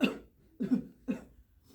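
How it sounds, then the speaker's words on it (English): Three short, rough coughs in quick succession, close and fairly quiet, each separated by a brief pause. "please pardon my cough"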